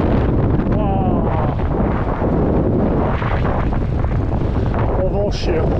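Strong wind roars and buffets the microphone with heavy low rumbling gusts throughout, loud and close, while a voice speaks in French beneath it, on a mountain bike ride in the hills near Roses, Spain.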